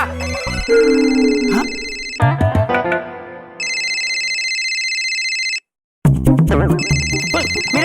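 A mobile phone ringtone plays loudly in repeated bursts of bright electronic tones, alternating with music-like passages; a voice speaks briefly.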